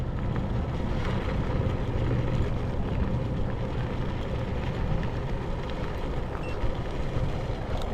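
Inmotion Climber 1500W electric scooter accelerating up a steep roughly 20-degree hill outdoors, heard as a steady broadband rumble of motor and wind noise that holds constant throughout with no talking.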